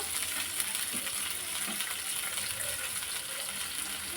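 Shallots sautéing in a pan, a faint, even hiss of frying with light stirring, quiet and continuous.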